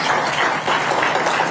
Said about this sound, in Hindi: अब एक बार फिर से हम तेज तालियों के साथ स्वागत करेंगे डॉक्टर अनुराग झा